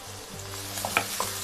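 Onions frying in oil for an Eid biryani give a brief close sizzle with a few light stirring clicks.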